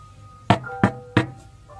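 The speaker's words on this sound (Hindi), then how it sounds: "दरवाजा खटखटाता है" Three sharp knocks land on a door in a close, evenly spaced sequence, each a crisp thud against a faint background hum, with no speech.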